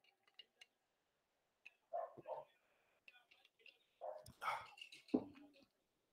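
Dogs bark in short, loud bursts and yips, close by, with pauses of near silence between them.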